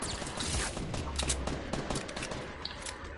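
Pistol gunfire in a shooter video game, a dense run of sharp shots and fusillade-like bursts over steady game noise throughout, loud and close.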